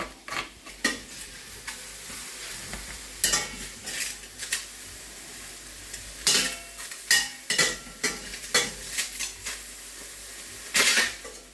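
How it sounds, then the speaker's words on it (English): Knife cutting mushrooms on a glass chopping board, giving sharp, loud clacks and taps in irregular bursts over a quiet kitchen background, with no talking. "The noise is coming from, because this is a glass chopping board, so that's why it's quite noisy."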